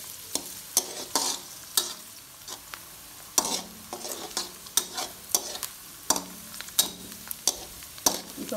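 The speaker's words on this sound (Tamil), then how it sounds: "வெங்காயம் கொஞ்சம் நல்லா லைட் ப்ரௌனாக வர வரையும் கிண்டிட்டு இருக்கணும்." Onions are stirred and fried in a pan until light brown, with a soft constant sizzle punctuated by irregular scraping clicks of the spoon against the pan, close and fairly quiet.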